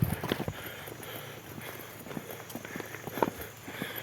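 Water buffalo plod through deep mud on a damaged rural road, a few heavy, irregular squelching steps close by with faint background noise.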